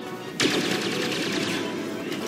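Blaster fire from the Star Wars Battlefront video game on the snowy Hoth map: a sudden, dense rattle of rapid shots that starts sharply and keeps going under a continuous battle din.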